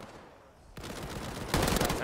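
Automatic gunfire from a Thompson and an MP40 in a competitive esports match, starting as a sudden burst after a quiet moment and swelling into louder, denser rapid fire near the end, with a caster's voice faintly beneath.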